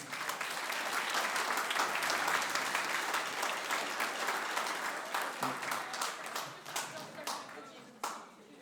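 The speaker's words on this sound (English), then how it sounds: "One more round of applause for our seniors" Audience applause for graduating seniors at a spring band concert fills a large hall, steady and dense at first, then thinning into scattered individual claps that fade out near the end.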